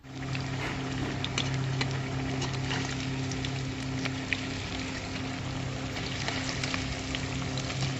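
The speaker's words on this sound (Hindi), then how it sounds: "तो घी गर्म हो चुका है हमारा कढ़ाई में, और एक एक करके हम इसमें पकौड़ी डालते जाएंगे" Potato pakoras sizzle and fry in hot ghee in a kadhai, a steady dense crackle with a low hum running underneath throughout, no voices over it.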